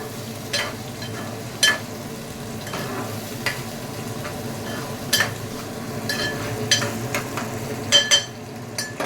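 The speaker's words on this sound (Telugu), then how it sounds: "అది గోల్డ్ కలర్ అంత వచ్చేంత వరకు మనం వేయించాలి" Onions fry in a pan for an anapakaya curry, a continuous sizzle with repeated stirring scrapes and occasional clinks of a utensil against the pan, close and fairly loud.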